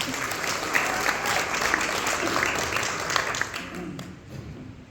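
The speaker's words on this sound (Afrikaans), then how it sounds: "Kom ons geef maar aan 'n klap" An audience at a church gathering claps in a dense, steady burst of applause that fades slightly toward the end, with some crowd murmur underneath.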